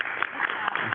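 A brief burst of applause at the Sitka school board meeting, several people clapping in a muffled, narrow-sounding room recording, with voices underneath.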